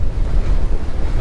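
Seaside wind at a sandy, shallow beach on Bantayan Island, a short burst of loud, rumbling gusts buffeting the microphone with surf-like wash underneath.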